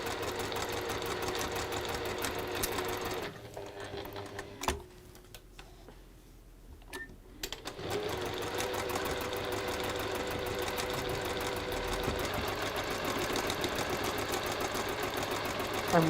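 A sewing machine chain pieces fabric in a quilting workshop, running in a steady fast whirr, stopping for a few seconds, then starting again and running continuously, close and fairly quiet.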